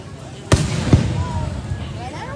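Fireworks going off outdoors at dusk, with two sharp booming bursts close together followed by lingering crackle and rumble, while people nearby talk and react excitedly.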